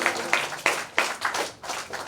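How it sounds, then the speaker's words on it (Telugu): Church congregation clapping during a Sunday service: a run of sharp, evenly spaced hand claps in a loose rhythm, moderately close, with faint voices underneath. "చప్పట్లు కొడతాం"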